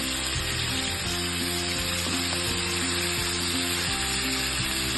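Pieces of fish frying in a pan for fish masala give a steady, loud sizzle, with occasional soft knocks from turning or stirring.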